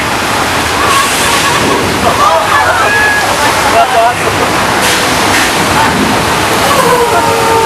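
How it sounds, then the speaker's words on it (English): Thousands of gallons of recycled water rush down a hill from tanks at a studio back lot flash flood effect, a loud, steady roaring gush with splashing throughout, voices faintly mixed in. "This flash flood was the result of thousands of gallons of recycled water released from tanks at the top of the hill."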